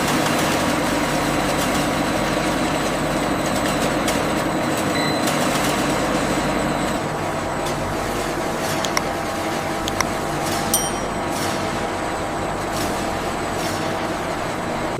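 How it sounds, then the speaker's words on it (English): Massive stainless steel pulping machines in an Indian mango juice factory drone steadily and loudly, a dense continuous mechanical roar with faint clanks near the end, no voices. "the peeled mango flesh is transformed by massive stainless steel pulping machines"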